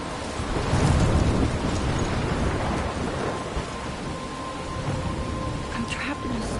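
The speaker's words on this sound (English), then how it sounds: "I'm trapped in a storm?" A heavy storm in Life is Strange pours steady rain with rolling thunder rumbling low and loud near the start, then continuing as a dense, constant downpour.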